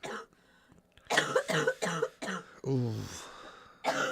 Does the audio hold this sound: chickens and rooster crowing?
no